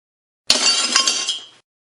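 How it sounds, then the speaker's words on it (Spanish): Glass shatters in one loud burst, a sharp crash followed by about a second of bright tinkling shards that then cuts off into silence. "En medio del sonido de cristales rompiéndose"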